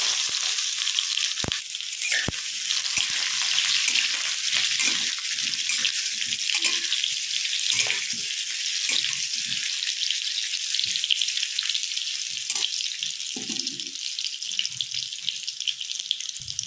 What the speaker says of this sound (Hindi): उसमें हम आलू को फ्राई कर लेंगे।